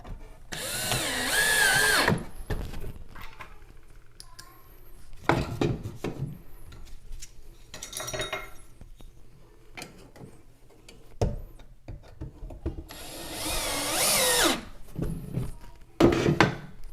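Power drill driving screws up through the underside into wooden stair treads, with several separate bursts of whirring at mid distance and quieter knocks and handling between them.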